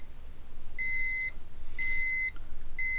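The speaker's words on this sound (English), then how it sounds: "I'm going to press the set button once to quiet the alarm." Three electronic alarm beeps from a Thermco ACCRT8002 temperature data logger repeat at steady one-second intervals, each a bright, high-pitched tone lasting about half a second, with faint background hum.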